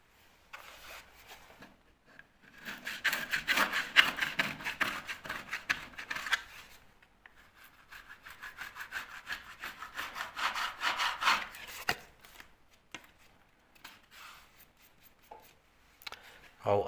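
Light hand sanding of a plaster coving joint with a shellac primer finish, giving two long runs of steady, raspy back-and-forth rubbing, close and moderately loud, separated by short pauses.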